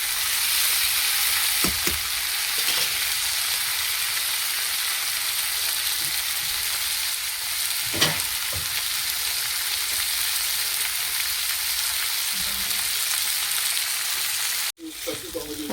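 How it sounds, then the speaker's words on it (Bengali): Chopped vegetables fry in a pan with a steady, close hiss of sizzling oil that runs the whole time. A few soft stirring knocks break through, and a sharp clatter comes near the end. "সবজিটা ভাজা হয়ে গেছে, সবজিটা সিদ্ধও হয়ে গেছে।"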